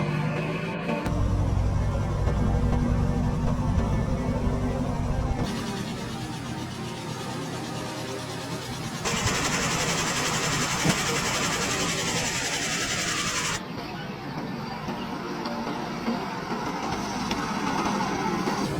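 A restored wooden-bodied Triumph 2000 car out on a test drive, with a steady engine drone and road rumble running through several abruptly cut segments and no talking.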